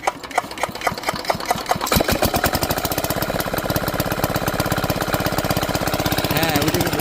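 A shallow-machine water pump engine irrigating a garlic field is cranked and catches, its rapid chugging beat building after a couple of seconds into a loud, steady, close running rhythm.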